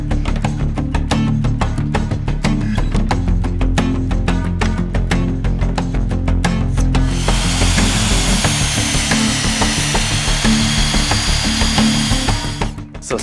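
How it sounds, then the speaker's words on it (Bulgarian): Wooden beams being cut and holes drilled in them for a wooden weight stand, a loud continuous power-tool whine and rasp, with a higher, harsher drilling scream taking over midway. "Сега остава да отрежем напречните греди и да пробием отворите."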